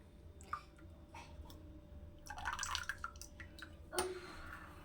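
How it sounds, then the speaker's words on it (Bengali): Leftover milky liquid is poured off freshly churned butter while making ghee, quiet close splashing and dripping with a brief louder gush midway and a soft clink near the end. "প্রথমে আমি এই দুধটাকে ফেলে দেবো"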